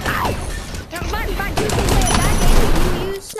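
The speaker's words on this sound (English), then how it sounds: "I'm using sniper." Sniper rifle fire in the shooter game Gun Raiders: loud, dense volleys of shots and booms ring over a busy battle, with other game effects layered on top.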